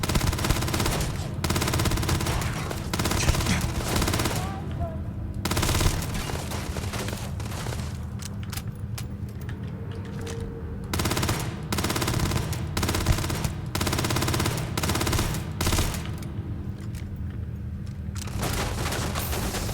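Gunfire rattles through a firefight in the video game Starfield, with dense automatic bursts and single shots continuing almost without pause and loud throughout, with no talk.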